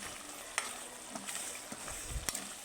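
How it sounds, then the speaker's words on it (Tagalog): Banana heart being stirred and mixed with other ingredients in a cooking pot: quiet scraping and clinks of a utensil over a soft, steady sizzle, with a few sharper knocks. "Yan, halo-halo lang muna natin, mamix yung mga sangkap."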